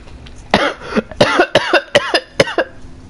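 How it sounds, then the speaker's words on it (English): Close, loud fit of harsh coughing from choking on a barbecue chip, a rapid series of about eight hacking coughs in bursts. "Well, stop coughing on barbecue chips."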